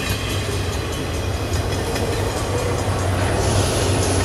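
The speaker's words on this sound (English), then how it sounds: "there's a train! It's a really, really long train." A long train rumbles past continuously, a steady loud roar of wheels on rails with faint rhythmic clatter and a low engine drone.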